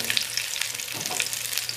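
About 300 grams of washed, cut okra fries in oil in a pan, giving a soft, continuous sizzle and crackle with no talking.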